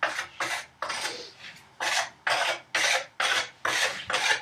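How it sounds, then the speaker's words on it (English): A carpenter's pencil with thick lead scribbles across a wooden workbench front apron board: about ten quick, close, rasping strokes in an even back-and-forth rhythm, with no talking. "I will mark the entire board"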